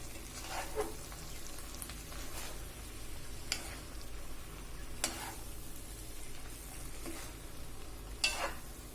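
Aviyal being mixed with crushed coconut in a pan, with a low continuous sizzle beneath scattered spoon scrapes and taps, close and quiet.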